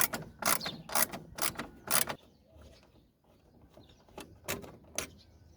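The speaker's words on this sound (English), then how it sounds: "So I'll start by removing this T30 screw." A ratchet works a T30 screw loose from the headlight of a VW Polo 6 1.4, giving close, crisp bursts of clicking: a quick run of strokes, a pause, then a few more strokes.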